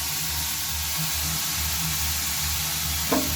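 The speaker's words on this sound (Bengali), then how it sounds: "এটা ভালোভাবে একটু ভেজে নিতে হবে দিয়ে নেব রসুন আর হচ্ছে লঙ্কা" Garlic and chili frying in a pan while cooking a cauliflower dish made with wheat flour, giving a steady, close sizzle and hiss with no voices, ending on a small clink.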